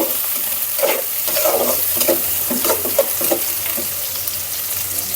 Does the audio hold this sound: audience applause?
no